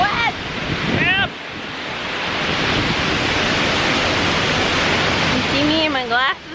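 Heavy, steady roar of falling water at Skogafoss waterfall in Iceland, loud and close, continuous throughout with wind buffeting, while voices talk briefly at the start and near the end.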